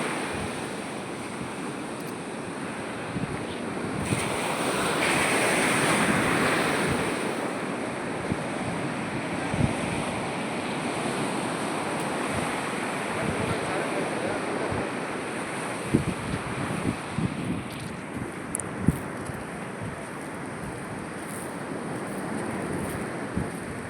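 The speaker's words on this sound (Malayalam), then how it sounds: "തിര എന്നെ വന്നു എടുത്തു" Ocean surf washes in with a broad roar that swells and recedes, while wind buffets the microphone throughout.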